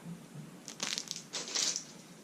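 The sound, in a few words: package of mini ramen shaken, crinkling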